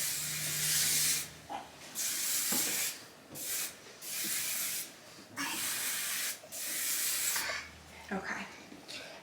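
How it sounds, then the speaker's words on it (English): Hair product sprays onto hair in a series of close, loud hissing bursts, about six spurts separated by short pauses. "So I'm just gonna take this and spray it all over my hair."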